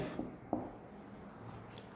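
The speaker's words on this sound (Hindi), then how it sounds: "मैं अगला सेंटेंस लिखता हूं" A pen or marker writes out a sentence on a board during a grammar lecture: a steady, soft scratching with a couple of sharper taps as strokes begin, close and alone with no voice.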